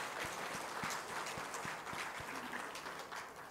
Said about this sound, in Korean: 네, 박수로 환영합니다.